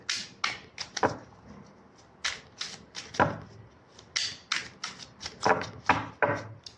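Tarot cards shuffled by hand at close range, uneven bursts of crisp papery rustling and flicks separated by short pauses, fairly clear and with no talking.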